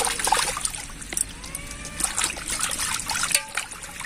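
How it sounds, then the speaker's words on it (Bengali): Tap water runs and trickles steadily while pangas fish pieces are rinsed by hand for a curry, with small splashes and sloshes close by and no talking. "খুব ভালো করে মাছগুলোকে এবার ধুয়ে নেব"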